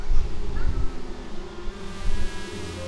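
A steady, close insect-like buzzing from a bee swarm in Psychonauts 2 hums continuously throughout, with low rumbling undertones and no speech over it.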